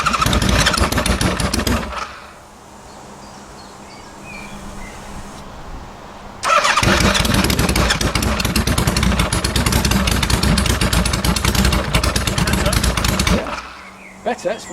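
A cold engine, apparently a motorcycle, cranks and catches, then runs loudly and unevenly with a clattering idle for several seconds, left alone without throttle, before cutting out; people talk briefly in the quiet gap.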